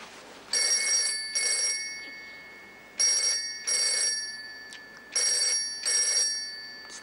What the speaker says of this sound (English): It's the phone. Ignore it.